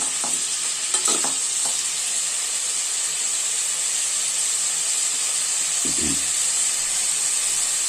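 Masala is stirred into a raw mango fish curry in a pan, a constant hiss of steam and sizzling broken by a few scraping strokes of the spoon near the start and again later.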